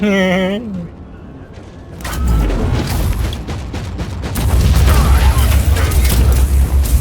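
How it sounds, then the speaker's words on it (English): A grenade detonates in Warhammer 40,000: Inquisitor – Martyr, a sudden loud low boom that gives way to a sustained roar of blasts and debris, with a brief voice just before it. "let's try out a grenade if I can get a group"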